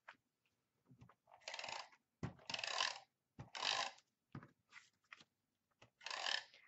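A tape runner lays permanent adhesive onto a card layer with soft, close ratcheting clicks and rolling rasps. About six short strokes are heard in a quiet room.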